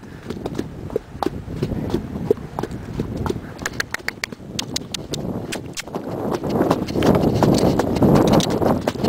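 Percheron horse hooves clip-clopping at a walk on a quiet ride after a heavy December snow storm: steady, slightly hollow-sounding hoof falls, close, over a soft background hiss.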